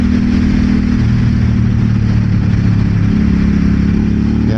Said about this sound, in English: this exhaust sounds pretty nice